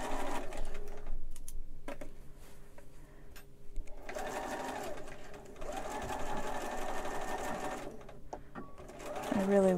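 A sewing machine stitches a monk robe in several bursts of rapid mechanical clatter separated by pauses. A person speaks quietly between the runs.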